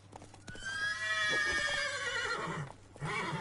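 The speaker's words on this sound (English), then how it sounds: "where's my horse?" A horse in the video game Witcher 3 whinnies loudly in a long, rising then falling neigh, followed by a snort and faint hoof clatter.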